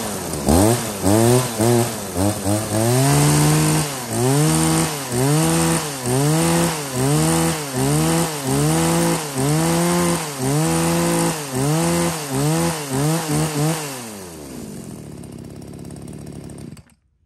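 Pull-start chainsaw fitted with a large chain, running loud and close: the engine revs up and down in a steady, repeating surge for about fourteen seconds, then winds down and cuts out.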